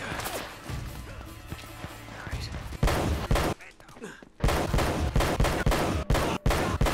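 Heavy gunfire and booming shotgun blasts in Uncharted: Drake's Fortune: dense, loud bursts of shots with crashing impacts, a brief lull, then more sustained shooting.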